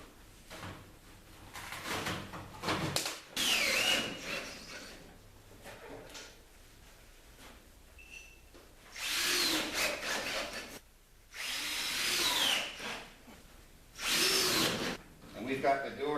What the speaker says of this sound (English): we're going to use a regular set of tin snips to cut this